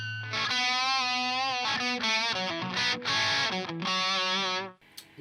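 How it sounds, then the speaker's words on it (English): Electric guitar through a dry distortion channel playing a short sustained phrase, bright and gritty, close and loud, with a few note changes before fading out. "dry distortion, like so."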